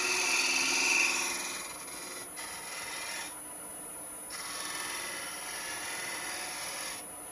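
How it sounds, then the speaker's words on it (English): A 3/8 spindle gouge cuts wood turning on a lathe, giving a close, continuous scraping hiss that rises and falls in several strokes as the tool moves across the piece. "Spindle gouge."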